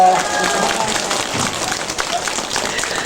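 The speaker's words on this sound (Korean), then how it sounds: "다시 한번 큰 박수 주세요" An audience gives a big round of applause, a dense, steady patter of many hands clapping that lasts the whole moment, with some voices mixed in.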